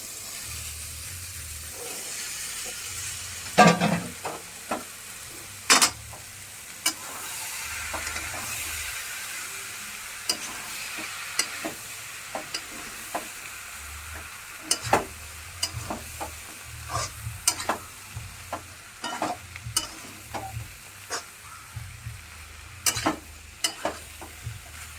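Kabuli chickpeas frying in a pan at a Kolkata street food stall, with a steady sizzle under repeated sharp scraping clatters of stirring, fairly close, and no talk.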